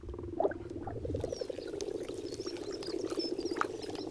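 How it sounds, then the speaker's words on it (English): Hundreds of frogs croak together at a lake's edge in the Tatra Mountains, a dense, continuous chorus of rapid pulsing calls with faint higher chirps scattered above, heard at a moderate distance. "Hundreds of frogs cluster together."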